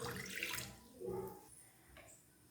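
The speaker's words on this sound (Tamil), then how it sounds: "நான் ஒரு 3/4 டம்ளர் தண்ணி ஊத்துறேன்." About three quarters of a tumbler of water is poured into a cooking pot on the stove while making palak keerai kadayal, a short, faint splashing pour.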